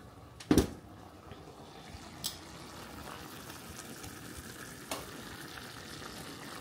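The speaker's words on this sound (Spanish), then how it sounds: "Pero ya tengo aquí las papitas. Quiero que se me doren un poquito." Potatoes frying in a pan make a low, faint sizzle that runs throughout, with a sharp knock near the start and a couple of soft clicks later.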